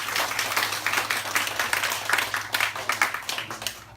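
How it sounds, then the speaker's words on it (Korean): A church congregation claps to welcome new members, steady moderate applause with distinct individual claps, continuing for a few seconds before tapering off. "박수로 환영하겠습니다."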